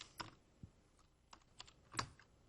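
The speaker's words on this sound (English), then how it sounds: "I just have to type it in again." Typing on a computer keyboard while entering MATLAB commands: a few sparse, quiet key clicks in a short, irregular run, with no talking.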